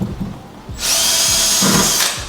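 A power drill bores a small pilot hole into wood backing behind a kitchen wall while mounting a Samsung over-the-range microwave; after a few soft knocks, a steady, loud high whine runs for over a second, close and alone.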